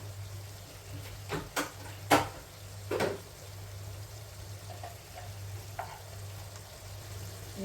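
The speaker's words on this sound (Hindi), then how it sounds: "अब मैं इसमें थोड़ा सा डालना है धनिया पाउडर और गरम मसाला, जीरा, ये डाल के भून के फिर उतार लेंगे" Boiled potatoes roasting in a pan with coriander powder, garam masala and cumin, a faint low sizzle under a steady hum, broken by a few sharp scraping stirs early on and softer clinks later.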